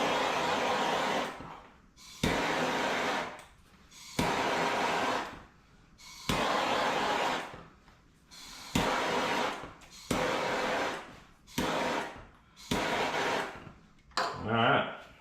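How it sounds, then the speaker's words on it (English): A torch heats the wires on a MAF sensor pigtail, a loud roaring blast that cuts in and out in about seven bursts separated by short quiet gaps. "You're gonna use a torch."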